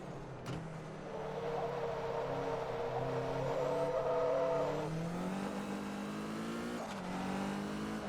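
Race car engine in Forza Motorsport 2 revving steadily through a corner, a moderately loud whine that climbs in pitch, eases off, then picks up again with a brief shift click.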